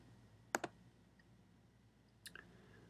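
Two quick, crisp computer mouse clicks close together, then a softer pair of clicks a moment later, faint against a quiet room hum.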